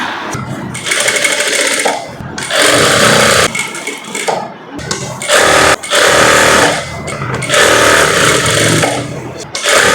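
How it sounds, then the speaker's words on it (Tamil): A sewing machine stitching around the neckline of a short gown, loud and close, running in several long buzzing bursts separated by brief pauses as the fabric is turned. "இப்போ வந்து சுற்றி தையல் போட போகிறேன்."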